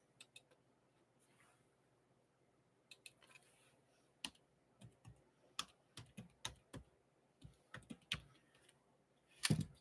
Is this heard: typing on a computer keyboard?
yes